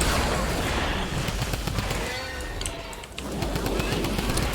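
Rapid automatic gunfire from the Typewriter gun in Fortnite Save the World, a dense continuous burst with sharp crackling shots running nearly the whole time, dipping briefly midway before resuming at full loudness.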